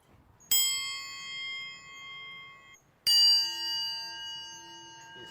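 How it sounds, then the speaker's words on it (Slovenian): A metal key hanging on a ring is flicked twice, each strike giving a bright bell-like ding that rings on and slowly fades, the second a little louder and richer, heard close up. "samo treba je malo frcniti po ključu"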